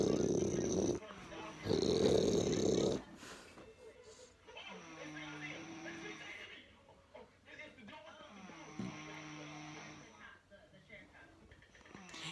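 A sleeping person snores with deep, rasping, growl-like breaths in a slow, repeating rhythm, close and moderately loud, after a few loud noisy bursts at the start.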